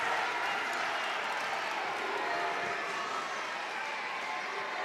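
A crowd at a men's college wrestling dual between Virginia and NC State cheering and applauding after a late takedown, a steady wash of clapping and cheers filling the arena at moderate loudness.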